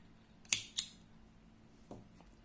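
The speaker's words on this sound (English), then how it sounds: "Now I can cut it." Scissors cut crochet yarn after a tiny crocheted heart appliqué is finished: two quick, sharp snips close together, followed by a couple of faint handling clicks in a quiet room.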